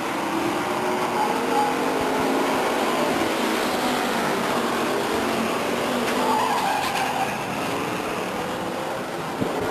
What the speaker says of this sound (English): Treadway and Knittel battle it out door to door in front of the grandstands